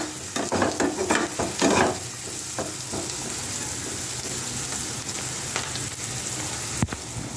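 Chopped onion pieces frying with salt in a pan, a continuous hiss with busy spatula scrapes early on that ease into steady sizzling and one sharp tap near the end, nobody talking.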